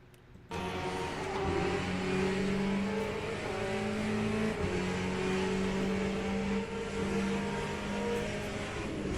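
A hypercar engine drones in the Le Mans Ultimate racing game. After a brief quiet start it becomes a sustained, fairly loud whine that rises and falls in pitch as the car accelerates and shifts, with no talking.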